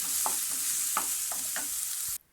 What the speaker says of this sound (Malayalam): ചട്ടി ചൂടാക്കിയിട്ട് സവാള വാട്ടി വന്നപ്പോൾ വെളുത്തുള്ളിയും ഇഞ്ചിയും പച്ചമുളകും ഇട്ട് കൊടുത്തിട്ടുണ്ട്